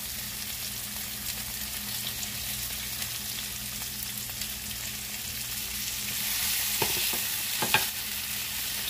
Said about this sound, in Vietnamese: khi mà tỏi nó vàng thì chúng ta cho cà chua chúng ta xào